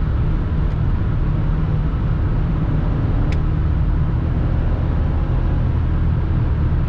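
A BMW X5 E53 4.4i V8 SUV driving at high speed, a steady loud roar of engine, tyres and wind heard from inside the cabin, unbroken throughout.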